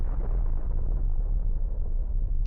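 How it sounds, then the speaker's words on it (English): A destroyed Russian APC explodes massively, heard as a continuous deep, heavy rumble that stays loud throughout with no voices. "A massive explosion follows."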